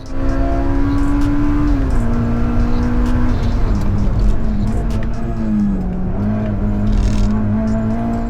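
A race car engine drones steadily at a track day during a cool-down lap, loud and close, with the pitch stepping down a few times as it slows.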